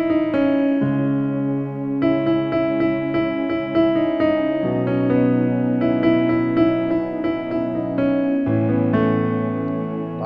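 A keyboard plays a sustained, tonal passage from a song with repeated rhythmic chord hits imitating a carpenter knocking on a door, steady and moderately loud with no talking.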